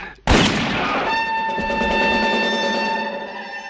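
A single sharp blaster-style gunshot in a film scene where Han Solo shoots Greedo, a loud sudden crack followed by a long ringing, tonal decay with no voices.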